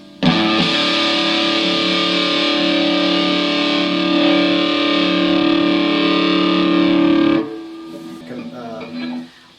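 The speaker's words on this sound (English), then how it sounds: "Let's try a little distortion on this." Electric guitar through a Randall distortion pedal, one loud, sustained, heavily driven chord ringing for about seven seconds before dropping away into quieter picked notes.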